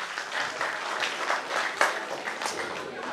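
Steady applause from a crowd at a folk festival, many hands clapping evenly throughout with a few sharper claps standing out.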